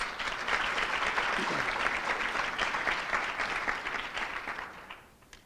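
A steady round of applause from an audience at a chamber of commerce gathering rises quickly, holds as a dense patter of many hands, then fades out near the end.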